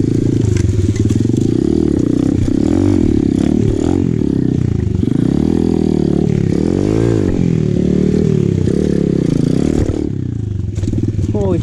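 An Apollo RFZ pit bike engine drones and revs steadily on an enduro trail ride, loud and close throughout, with rising and falling pitch as the throttle changes and clattering from the rough ground.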